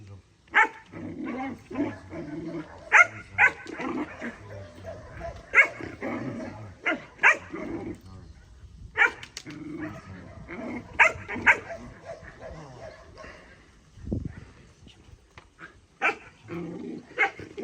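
A dog barks repeatedly in sharp bursts, close by, with occasional growls, while people talk over and between the barks.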